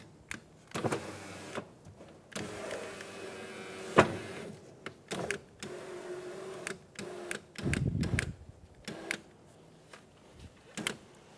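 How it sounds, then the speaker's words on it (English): A Nissan Altima power window motor, 2007-2012 model, lowering a door window with the door panel off, heard as several short whirring runs separated by clicks and pauses, close and fairly quiet. "Put the motor back down."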